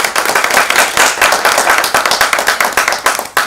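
Studio audience at a fitness chat show recording claps steadily, dense and close applause filling the room with no talk over it.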